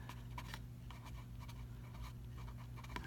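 Pen or pencil writing an answer on a worksheet, a run of soft, scratchy strokes at close range with a steady hum underneath.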